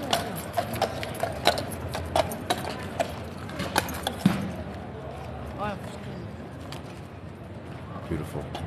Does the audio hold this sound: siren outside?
no